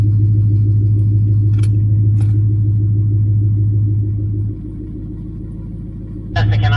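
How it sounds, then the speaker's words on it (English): A 2018 Jeep Trackhawk doing a burnout, a loud, close, steady low engine rumble held for several seconds, dipping briefly before surging again; no talking. "I'm probably just gonna do a burnout for the first half of the track."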